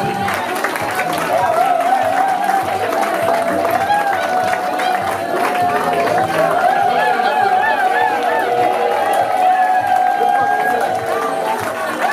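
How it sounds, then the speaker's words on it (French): Guests at a civil wedding ceremony applaud as the bride arrives, a loud sustained rattle of clapping mixed with crowd chatter and a few raised voices. "on applaudit, s'il vous plaît"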